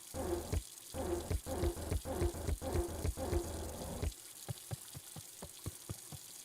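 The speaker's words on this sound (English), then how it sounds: "that water makes me really have to piss" Running water in the video game Beacon Pines, a steady pouring gush that stops abruptly partway through, followed by faint intermittent taps and clicks.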